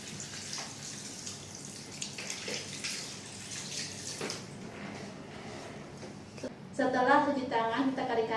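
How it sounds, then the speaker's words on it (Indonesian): Tap water runs steadily while hands are rinsed during a handwashing routine before removing protective equipment, a continuous splashing hiss that shifts near the end into a brighter, gurgling flow. "Bilas dengan air mengalir."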